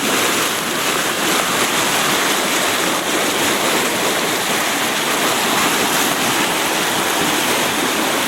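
Floodwater rushes past a concrete embankment at a dam collapsed during Hurricane Helene, a loud, steady roar of churning water that continues unbroken throughout with no voices.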